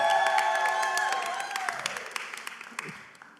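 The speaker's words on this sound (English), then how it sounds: "Can we give a round of applause for that?" Audience applause with some cheering for an artist's performance at a live club-tour event, loud and close at first and then thinning into scattered claps as a voice talks over it.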